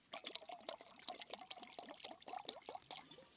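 Water pours into a JetBoil Flash cooking cup outdoors in snow, making a close, clear gurgling stream with bubbly glugs that rise and fall for a few seconds.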